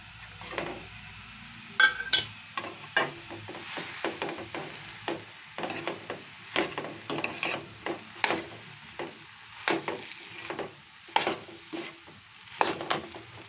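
A tapioca and onion mixture sautés in a pan, a soft sizzle under rhythmic, distinct scraping and turning strokes of a spoon repeating every second or so.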